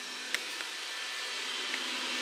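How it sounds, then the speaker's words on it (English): A household vacuum cleaner runs steadily in a home, a faint, even whirring hiss that holds without a break, with a couple of tiny clicks and no talking. "We have vacuum cleaner here."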